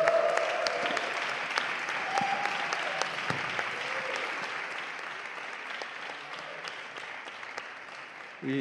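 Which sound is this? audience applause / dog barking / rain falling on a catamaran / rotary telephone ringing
audience applause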